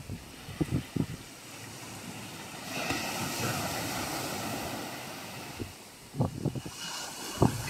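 Big ocean waves surge and roll at sea, a long rushing wash with buffeting wind noise and a few heavier thumps near the start and end.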